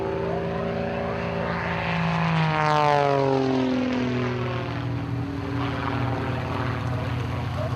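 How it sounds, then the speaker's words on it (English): A Rebel 300 aerobatic monoplane with a 300 horsepower Lycoming engine at an air race, its propeller drone rising as it approaches, peaking overhead, then falling in pitch as it passes and recedes. "the Rebel 300, powered by a 300 horsepower Lycoming engine"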